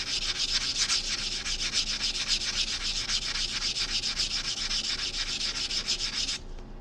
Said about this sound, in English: So right now I'm just sanding this cut edge, getting it nice and shiny.